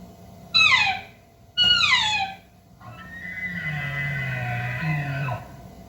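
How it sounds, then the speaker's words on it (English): Two bull elk bugling during a hunt, heard as two bright, high whistling calls in quick succession followed by a longer, steadier sustained call with a low grunting undertone, fairly close and loud in open quiet. "All of a sudden, 2 bulls started bugling."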